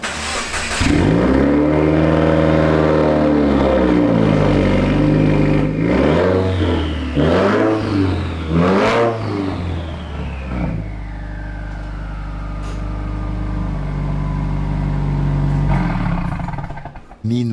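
A 2015 Subaru WRX engine revs loudly and close as the car pulls in, with several rising and falling revs, then settles into a steady, low idle rumble.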